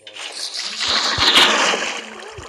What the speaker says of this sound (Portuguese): Marquinhos, pega balde de água e joga